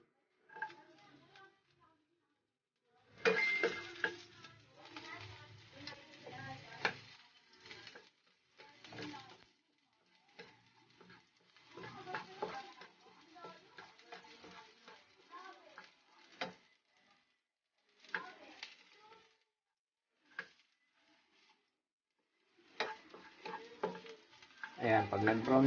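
Garlic fries in a little oil, bursts of close sizzling and stirring coming and going between quiet gaps, fairly faint overall, with a person talking at times.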